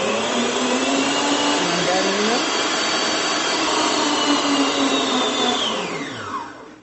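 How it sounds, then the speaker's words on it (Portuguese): An electric stand mixer beats eggs and sugar at high speed, a loud, continuous whirring motor drone with the slightly shifting pitch of the beaters churning the thick mixture, winding down at the end. "enquanto a batedeira tava batendo"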